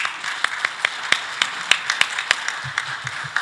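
Sparse clapping greets an honorary professor at the opening ceremony of an international academic conference, a light, scattered round of hand claps in a hall with no talking.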